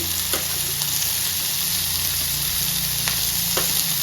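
Fish fries in coconut oil in a pan, a loud continuous close-up sizzle with occasional crackles and no talking.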